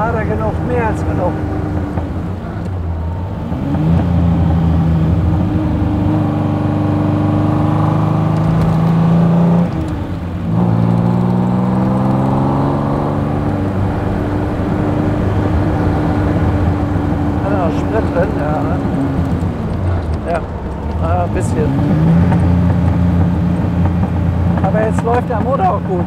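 A 1938 BMW 328 Roadster's engine runs loud and close, rising and falling in pitch as it revs and shifts through gears over a sustained stretch, with people talking over it.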